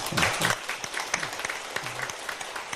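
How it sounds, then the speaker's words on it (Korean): Church congregation applauding during a Sunday service, a short burst of moderate clapping with individual claps standing out as it thins, and a voice faintly underneath. "우리 한번 전종현 권사님, 강영철 집사님, 윤준식 권사님 이번에 수고하셨는데 박수 좀 보내주시죠."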